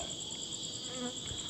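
A bee buzzes near an ancient temple, a steady, thin whine that hums continuously and sits close and faint throughout, with no voices.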